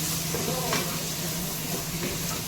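Ginger paste stirred into mutton curry in a hot pan, a soft scraping stir over a constant frying sizzle, close and steady.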